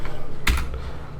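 Short burst of computer keyboard typing, a few quick keystrokes over a steady background hum.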